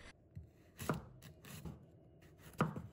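A knife cuts a peeled carrot into thin strips on a board. Soft, quiet slicing strokes are broken by two sharper, louder chops.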